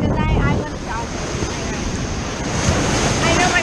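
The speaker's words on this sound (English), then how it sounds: "And these waves, they're not as big as before." Ocean waves wash steadily at a beach in a loud, continuous roar, with strong wind buffeting the microphone throughout.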